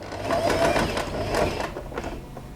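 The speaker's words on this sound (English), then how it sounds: "Let's take this to the sewing machine." A sewing machine stitches two layers of fabric together for a two-tone scrunchie, giving a steady, close mechanical whir that runs continuously with slight surges in pace.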